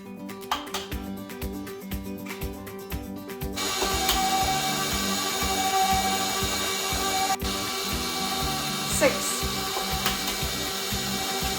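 A stand mixer beats six eggs, added one at a time, into a lemon loaf cake batter, giving a rhythmic clicking, whirring motor sound that grows into a steady, louder hum after the first few seconds.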